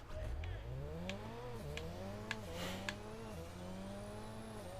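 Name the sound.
car driving in video game Crackdown 3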